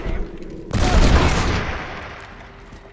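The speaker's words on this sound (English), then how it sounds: "I get to do a little more with this badass sawed off shotgun" A sawed-off shotgun fired in the video game Red Dead Redemption: a single loud, close blast that rings out and decays slowly, preceded by a quieter rumble.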